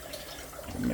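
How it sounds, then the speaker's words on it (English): Water is poured over an apple pie mixture in a home kitchen, a faint, steady close splashing trickle that swells slightly toward the end. "I'm going to pour just a little water over this so it helps it run down"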